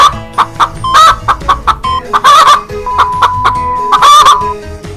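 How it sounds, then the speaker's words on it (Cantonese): A chicken clucks in quick, loud bursts close by and breaks into longer crowing calls, with a sustained tone running beneath the clucks. "答案就係雞。"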